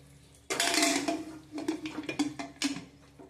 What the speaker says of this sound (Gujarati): હવે આપણે આ કુકરને બંધ કરી દઈશું